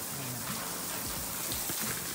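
Water falling from above at a hotel patters steadily like rain, with a dense, even hiss of drops that stays close throughout.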